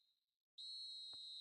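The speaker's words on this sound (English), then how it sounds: "There's the whistle for half-time." A referee's whistle blows for half-time at a football match, a sustained piercing blast that begins after a faint, brief toot and continues unbroken, with a short thump partway through.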